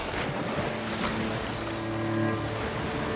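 Water sloshing and surging in the video game Wild Hearts, a steady full-band wash with faint tonal hum underneath, continuous for a few seconds with no talk.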